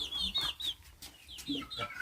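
Backyard chickens clucking on a farm, several short irregular calls at close range with some rustling in between and no speech.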